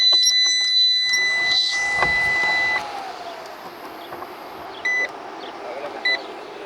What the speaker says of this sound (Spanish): imagino que habéis escuchado el pitido